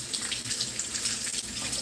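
Tap water runs steadily into a kitchen sink while vegetables are rinsed under it, a close, continuous splashing hiss with no talking.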